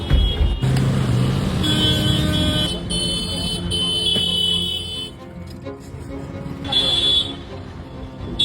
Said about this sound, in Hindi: Even from the hotel room, there's so much honking in the street.